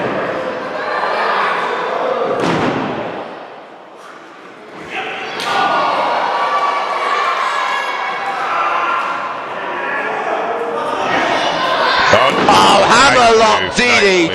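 A thud from a DDT slamming a wrestler into the mat during an opening match between two wrestlers at a New Wave Wrestling Alliance show in Manchester, with a steady crowd roar and commentary talk throughout.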